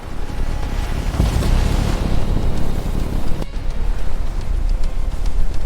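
Stormy sea with waves crashing and churning under strong, gusting wind buffeting the microphone, loud and continuous throughout.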